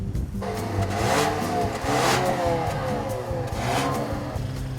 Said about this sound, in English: It's a turbocharged engine. It's going to sound like a sewing machine with a little bit of extra grumph.